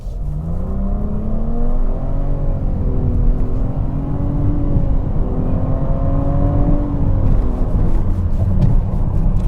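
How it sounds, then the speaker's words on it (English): A 2022 Nissan Rogue Platinum accelerates at full throttle in sport mode, its engine whirring and rising steadily in pitch for several seconds and then settling, loud and close from inside the cabin with no talking. "So you have it in sport mode, and then you just basically floor the accelerator."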